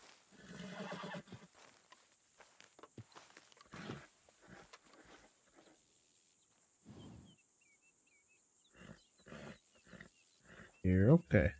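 A horse whinnies loudly near the end, in a video game, after scattered quiet talking and faint hoof and ambient game sounds.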